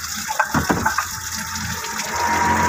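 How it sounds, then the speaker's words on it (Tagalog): Coolant water gushes and splashes from a leaking water pump on a warm Kia Ceres engine. The flow is close and steady, with uneven sloshing bursts that settle into a continuous rush. "Ayan, lumakas na yung tubig niya."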